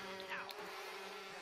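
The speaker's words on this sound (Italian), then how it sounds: "Uno sciame d'api!" A swarm of bees hums in a steady, close drone from start to finish, its tonal bands holding level, with a few faint sounds briefly breaking in near the start.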